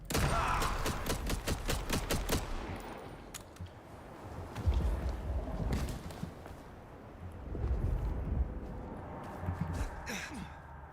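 Rapid gunfire in Vampire: The Masquerade - Bloodlines 2: a quick string of sharp shots opens the stretch, then scattered quieter bangs and rumbling game ambience follow.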